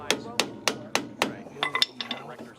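A seized drum brake wheel cylinder on a car takes a run of five evenly spaced, ringing metallic hammer strikes, followed by a quicker scatter of lighter taps, heard up close.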